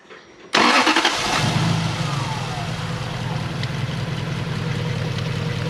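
Toyota 1UZ V8 engine in an Altezza, running on four cylinders with a backwards, broken rotor, cranks and catches with a sudden loud burst, then settles into a rough, uneven idle close by.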